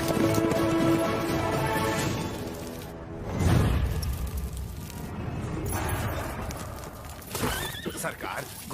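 A horse snorts and neighs with clip-clopping hooves, loud and close, mixed with movement and commotion and a brief voice.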